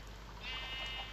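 A sheep bleats in a farm-style video game, a short quiet wavering bleat rising partway through over a faint background hum.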